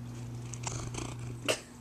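A cat purrs close by, a steady low rumbling hum with a few faint rustles and a brief soft noise near the end.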